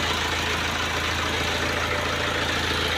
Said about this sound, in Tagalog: Naririnig nyo guys yung tunog ng makina.